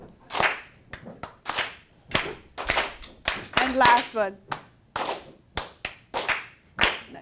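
A class claps their hands in sharp, loud bursts at an irregular, stop-start rhythm, with a brief spoken voice among the claps.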